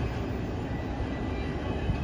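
A long Norfolk Southern intermodal freight train rumbles past at a grade crossing in Lexington, Kentucky, a steady, loud low-pitched roll of wheels and cars with no talking.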